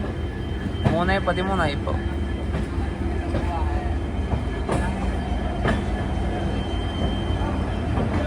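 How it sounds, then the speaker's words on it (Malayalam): Train pulling into Shalimar railway station in Kolkata after a long run from Nagercoil, a steady rumble and clatter of wagons under station noise, with a brief squeal and a person speaking over it. "ട്രെയിൻ ഇതാ കൊൽക്കത്തയിലെ ഷാലിമാർ റെയിൽവേ സ്റ്റേഷനിലേക്ക് എത്തുകയാണ്"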